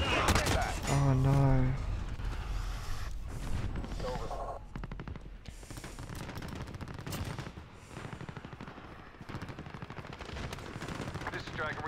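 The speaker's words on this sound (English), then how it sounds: "This is Dragon, we're taking some fire." Rapid automatic gunfire bursts and scattered single shots crackle through a Call of Duty Modern Warfare match, dense and loud from start to finish, with game voices and a player talking over the shooting.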